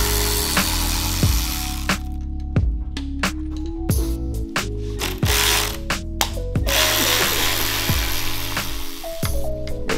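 A socket wrench working 8 mm and 5.5 mm bolts on a 2015-2023 Mustang EcoBoost, close and loud, with rapid ratcheting clicks in short bursts and a few sharp metallic knocks as the tool is repositioned.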